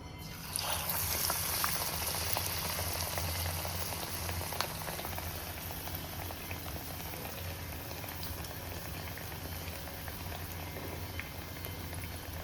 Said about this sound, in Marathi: आणि छान अगदी गोल्डन ब्राऊन रंगावर हे फ्राय करून घ्यायचे